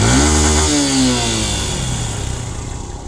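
A Yamaha R15 V3 motorcycle engine revs hard and close during a group ride, a loud rising roar that settles into a rough, throbbing idle.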